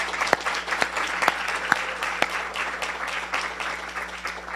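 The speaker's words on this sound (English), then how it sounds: "Let's give them a big round of applause." Audience applause for D.C. councilmembers at a mayoral event unveiling a restored Frederick Douglass portrait: steady, dense clapping from a crowd, moderately loud, with a few sharper individual claps standing out through the whole stretch.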